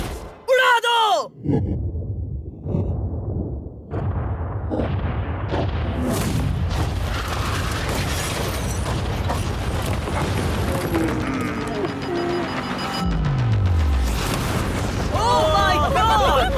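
A bomb blows up a yacht with a heavy, sustained explosive roar and rumbling booms that go on for several seconds, while excited voices shout over the blast.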